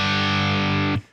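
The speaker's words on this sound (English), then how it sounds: "I'm going to strum this with all down strums at 8th notes" A heavily distorted electric guitar power chord rings out as a single loud, thick sustained strum, then is abruptly choked off near the end.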